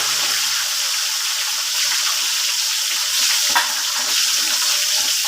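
Tilapia fish frying in a pan, with a steady, loud, dense sizzle and crackle of hot oil that continues throughout, close up and with no talk over it.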